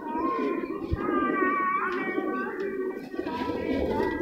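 A pet racing pigeon kept by a Punjabi fancier coos softly in short repeated calls, close by, with a faint voice in the background.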